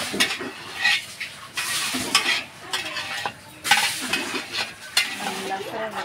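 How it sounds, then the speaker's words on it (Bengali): Meat for biryani sizzles in a pot while a spoon stirs and scrapes it in repeated strokes, the frying hiss rising and falling with each turn of the ladle, close and moderately loud. "গাইস এখানে হচ্ছে মাংস কষানো হচ্ছে।"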